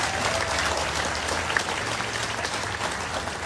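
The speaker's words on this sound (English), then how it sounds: "Let's give him a round of applause, please." A room full of guests at a consulate office opening ceremony breaks into steady, sustained applause for an honored state senator, dense clapping holding at an even level throughout with no talking.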